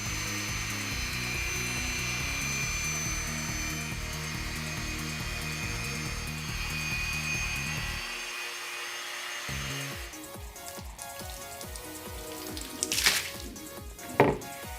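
A power tool whines steadily while wet polishing a concrete countertop, a sustained mechanical drone that cuts out partway through and gives way to scraping and rattling with a couple of sharp knocks near the end.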